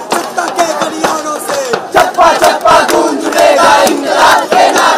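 A protest march crowd of former students, researchers and professors from Jadavpur University chants loud, rhythmic slogans demanding unconditional release, many voices shouting together in close, punchy bursts that repeat without pause.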